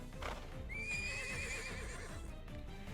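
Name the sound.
horse neighing and hooves from the video game Twisted Wonderland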